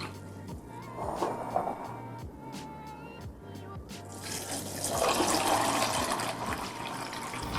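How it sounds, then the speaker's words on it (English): Water runs and splashes into a container of almonds, a steady liquid pour that grows fuller and louder partway through, with faint handling clatter. "add 4 cups of water so that it covers the almonds"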